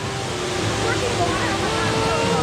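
Water rushing at a Busch Gardens or Kings Dominion theme park ride, a loud continuous roar and splash close by that holds steady throughout, with voices faintly mixed in.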